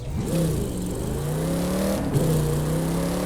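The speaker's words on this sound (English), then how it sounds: "I'm just now hitting the gas now" Car engine in The Crew 2 revving hard under acceleration with traction control off, pitch climbing steadily, dropping sharply at a gear change, then climbing again, loud and close with no talk.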